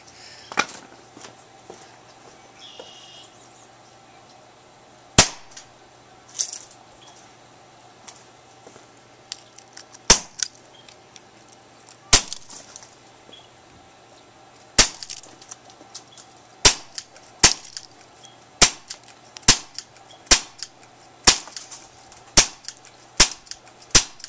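BB gun shots fired at a BlackBerry phone, with pellets ricocheting, sharp sharp snapping cracks, sparse at first, then coming in a quicker regular series, loud and close over a quiet hum.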